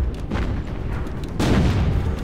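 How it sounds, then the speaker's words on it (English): Battleship main battery guns fire in Battlestation Pacific Remastered during the Battle of Santa Cruz, heavy booming blasts in close succession with a big low rumble, loud and near with no talk. "let's single fire our main battery guns like that"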